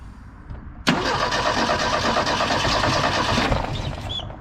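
The engine of a 1972 Ford Pinto Runabout cranks and catches with a sharp onset, then settles into a loud, steady mid-pitched running rumble for a few seconds before easing slightly, with no talk over it.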